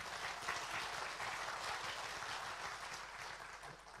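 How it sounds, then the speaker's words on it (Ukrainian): Sustained applause fills a political party congress hall after a vote, a dense steady wash of many hands clapping at even loudness for the whole stretch, with no talking over it. "аплодисменти."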